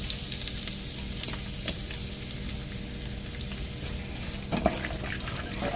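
Onion frying in peanut oil in a pot, a soft steady sizzle with light crackles and occasional stirring clatter, a louder burst near the end.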